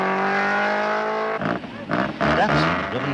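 Rally cars, including a Mitsubishi Colt, pull away from a control during the 1976 Safari Rally. A steady tone gives way to rising engine revs and tire noise, with a commentator speaking over it.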